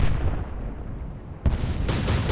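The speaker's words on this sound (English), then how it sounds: "Another explosion as he moves." Booming explosions in the naval combat game Atlantic Fleet, a sharp loud blast about halfway through followed by another burst, over a constant low rumble of battle noise.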